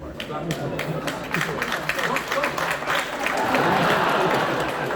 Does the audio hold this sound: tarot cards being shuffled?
no